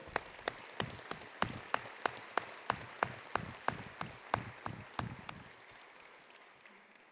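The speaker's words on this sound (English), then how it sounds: "a round of applause for Sarah" About fourteen evenly spaced sharp claps ring out at an awards dinner, steady and rhythmic, then fade into a soft room murmur with no further claps.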